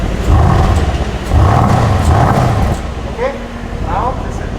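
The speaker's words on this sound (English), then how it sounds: "So they have that active exhaust thing here." Two bursts of deep engine revving with a throaty active-exhaust roar from a Land Rover Defender, each swelling and falling, followed by a quieter idle with brief chirps.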